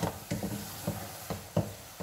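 Gajar ka zarda, carrot rice, stirred in a steaming pot: a string of soft scraping strokes at an even pace, close by, against a steady hiss of steam.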